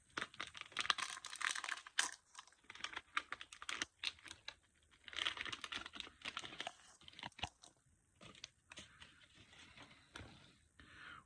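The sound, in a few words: opening wrapper of a Japanese fish-shaped snack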